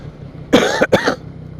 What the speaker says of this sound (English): So I get a nice cough like this every now and again now.